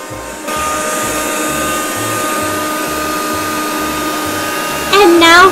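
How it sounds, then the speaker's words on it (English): A vacuum cleaner runs steadily with a loud, constant whir under a repeating music beat while vacuuming under a couch, and a voice briefly rises near the end. "This vacuum will go under the couch, no problem."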